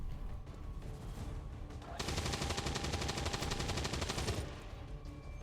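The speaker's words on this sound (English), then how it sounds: "How many more shots do we reckon we could actually get out of this Gatling cannon?" A Gatling cannon fires a continuous rapid burst of about two and a half seconds in XCOM 2, a loud dense rattle that starts and stops abruptly over quieter game ambience.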